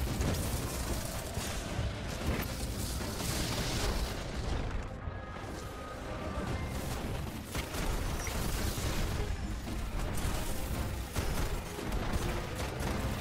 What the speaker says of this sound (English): I'm trying to defuse a bomb here, and those explosions are not helping.